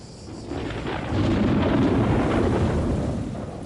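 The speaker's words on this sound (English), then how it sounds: "And the campers at Chez Farel are in for a stormy night." A nighttime thunderstorm over a campsite in France produces a loud, steady roar of rain and rolling thunder that swells after the first second and stays heavy throughout, with no voices.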